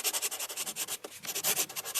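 A saw-like energy ray cutting downward through a body in a Hindi audio comic, rendered as a rough, rhythmic rasping and grinding effect with steady repeated strokes, close and fairly loud.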